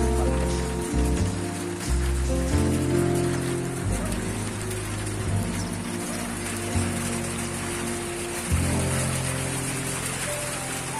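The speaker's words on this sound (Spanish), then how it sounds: "tenemos que movernos porque está lloviendo muy fuerte" Heavy rain pours onto a rooftop in Siloé at dusk, a steady loud wash of hiss that fills the whole clip, with low tonal hum running beneath it.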